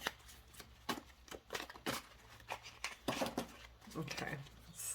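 Tarot cards being shuffled by hand, a run of uneven papery riffles and soft slaps close by, with faint talking in the background.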